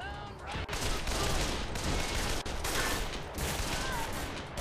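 Dense, continuous gunfire rattles through a firefight in the video game Call of Juarez: The Cartel, loud and sustained with overlapping shots and almost no break.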